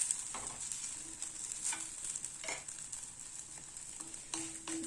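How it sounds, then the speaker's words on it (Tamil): Paruppu poli, a lentil-filled flatbread, cooking on a hot tawa with oil or ghee, giving a quiet continuous sizzle with faint scrapes and taps throughout. "தோசைக்கல் சூடானதும் இந்த போலியை இதில் போட்டுடலாம்"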